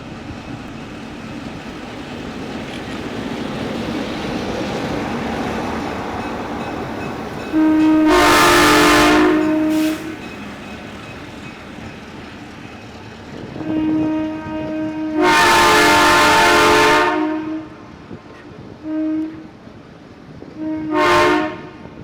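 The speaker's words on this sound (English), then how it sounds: "it looks like our train is here" A train rumbles steadily nearby while arriving at a station on a Steamtown excursion, its horn sounding several times in long loud blasts, with a couple of shorter toots near the end.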